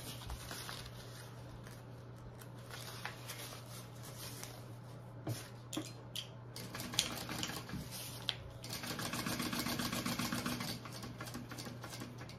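A sewing machine stitches a bag seam flat in rapid close bursts of mechanical ticking, and the run grows denser and louder near the end over a steady motor hum.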